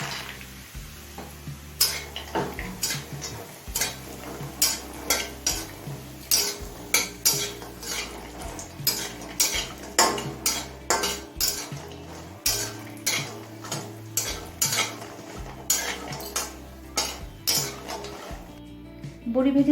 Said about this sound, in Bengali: তেলটা হাই ফ্লেমে গরম করে নিয়েছি এবার কয়েকটা বড়ি ভেজে নেব